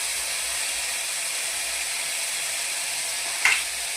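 Wheat noodles being stirred in a pan with soy sauce, red chili powder and salt, a steady sizzle throughout with one brief scrape near the end, no talking.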